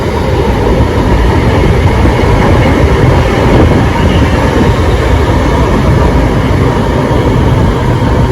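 An LRT Line 1 train rumbles steadily along at Redemptorist-Aseana station, its loud, continuous rail roar and wheel noise filling the whole stretch without any voices.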